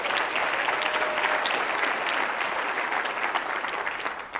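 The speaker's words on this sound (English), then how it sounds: "Can we give him a big round of applause?" A large keynote audience applauds steadily, a dense and sustained wash of clapping that fills the whole stretch at even volume.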